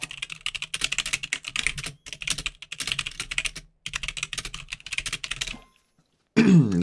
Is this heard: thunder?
no